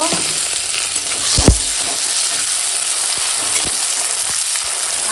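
Sliced onion and green chillies frying together in hot oil, a loud, close, continuous sizzle with a sharp spatula scrape near the start and light stirring clicks.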